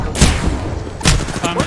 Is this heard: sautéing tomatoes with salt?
no